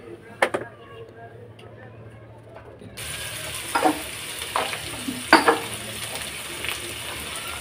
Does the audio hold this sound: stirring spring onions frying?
yes